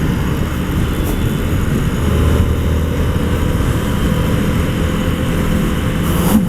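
An Indian FTR1200 motorcycle accelerates in third gear on a demo ride, its engine a loud, steady droning roar mixed with rushing wind throughout.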